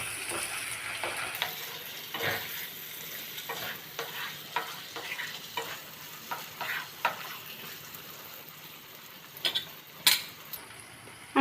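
A spoon stirs spiced bhetki fish-bone curry in a frying pan, giving repeated soft scrapes and clinks over a faint sizzle, with a few sharper knocks near the end.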